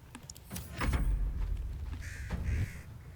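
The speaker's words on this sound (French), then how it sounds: "J'avais oublié qu'il y avait encore des corbeaux." Crows caw in the video game Baldur's Gate 3, a few harsh calls over a rumbling low background, with no talk.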